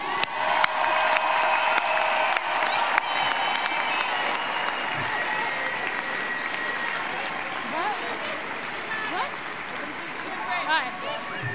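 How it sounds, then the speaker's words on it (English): A stadium crowd at a championship celebration applauds the coaching and support staff, with loud continuous clapping and some cheers and whoops. The applause fades gradually, and a voice can be heard faintly underneath. "Can we give them one more round of applause?"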